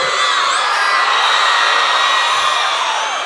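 A student crowd at a university centenary cultural fest shouts, whoops and cheers loudly and continuously, a dense roar of many voices with no single speaker standing out.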